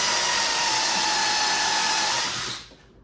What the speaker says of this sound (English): I'm putting in screws on the top.